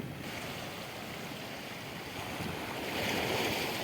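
Water waves lap at a riverbank at a fishing spot: a continuous, faint wash of rushing water with wind noise, swelling slightly louder toward the end.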